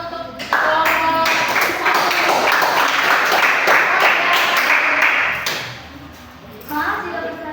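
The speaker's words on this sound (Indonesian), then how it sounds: "Tepuk tangan untuk kelompok" Applause from a classroom audience for a student group that has just finished a school presentation, broad steady clapping filling the room for several seconds before fading, with children's voices mixed in.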